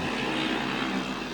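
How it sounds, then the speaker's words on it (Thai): Motorcycles revved hard by teenagers late at night on a street in Lampang, a continuous loud, steady engine drone with no break. "ชอบรวมตัวกันบิดรถด้วยความเร็ว ช่วงกลางดึกที่บริเวณ"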